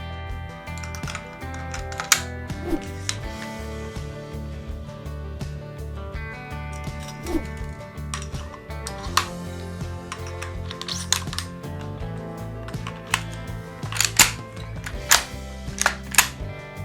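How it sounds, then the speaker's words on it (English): A semi-auto shotgun is reassembled with a run of close metallic clicks, snaps and taps at irregular intervals, a few sharper clacks standing out, no talking. "we're just gonna quickly put the gun back together"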